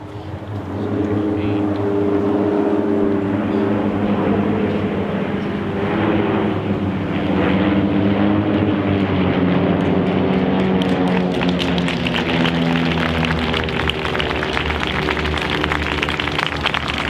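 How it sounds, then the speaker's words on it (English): A formation of six propeller aircraft led by an RV-8 flies over at a Memorial Day event, a loud, sustained droning engine roar with shifting harmonic tones as the planes pass close overhead. "There'll be 6, led off by the lead aircraft in an RV-8"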